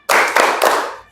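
Sharp hand claps ring out in a quick burst of about three strokes, loud and close, as a group does a 'tepuk semangat' clap chant in a classroom session.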